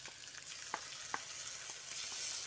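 Spice paste sizzling and frying in a pan with potato and kakrol, a steady bright hiss broken by small pops and stirring clicks, close and with no talking.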